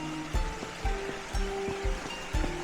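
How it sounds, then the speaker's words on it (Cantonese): Water running in a stream below a bamboo forest, a steady close rush with recurring low splashing surges about every half second. "下邊有啲水聲啊"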